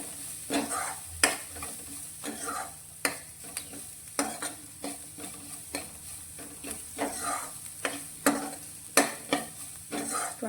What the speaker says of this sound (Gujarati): તેનો ક્રન્ચી ટેસ્ટ રહે ડુંગળીનો તે રીતે તેને સાંતળીશું